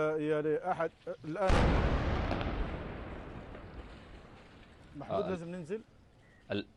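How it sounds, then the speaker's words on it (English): Missile strike on a building in Gaza: a single huge blast bursts out suddenly and rumbles away over several seconds, with a voice talking close by before it and again as the roar fades. "Here comes the missile strike."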